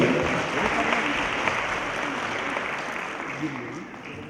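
Sustained crowd applause at a memorial ceremony honouring martyrs and veterans, a dense, even roar of clapping that holds steady and tapers slightly toward the end.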